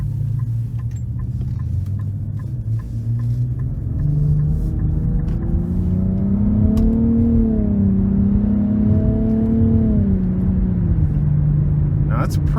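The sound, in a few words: 2023 Nissan Rogue Platinum accelerating in sport mode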